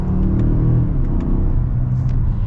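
A 2022 Mazda CX-5 Signature Turbo accelerates with a low, steady engine rumble heard from inside the cabin, loud and continuous over a short burst.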